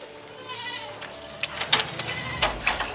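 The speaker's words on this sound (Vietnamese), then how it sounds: "Chăm 10 mấy con dê." Goats in a small rural herd bleat several times, short wavering calls at moderate distance, with faint background voices and low ambient noise.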